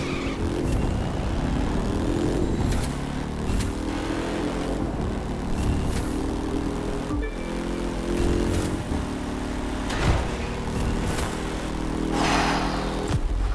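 Sports car engine racing in The Crew 2 video game, a continuous loud revving roar with gear-shift pitch changes and brief skids throughout, no talking.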